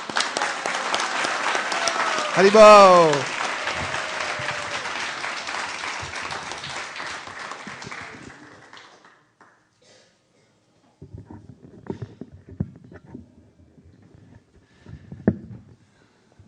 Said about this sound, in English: help me in bringing him up here with a big round of applause.